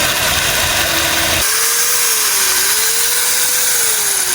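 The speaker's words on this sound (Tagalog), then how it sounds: "Naisipan namin itong drill na to. Pubutasin na lang namin at gagawin namin lampasan yung tornilyo." A power drill boring through a broken screw stuck in an engine: a steady, loud motor whine that shifts pitch after a sharp onset, wavering slightly as it bites into the metal, heard alone without talk.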